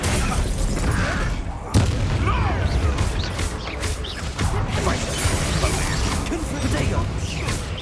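A Bombarda explosion spell bursts during a Hogwarts Legacy fight, bringing a sharp blast, then crashing, creaking debris and further impacts. The loud, dense battle noise continues throughout, with a voice briefly heard in the mix.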